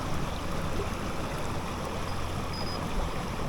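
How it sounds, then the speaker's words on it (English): Steady broadband rush of the Matarraña River flowing in Aragon, a continuous, fairly close wash of moving water with no distinct splashes and no voices. "Now this is the Mataranya River"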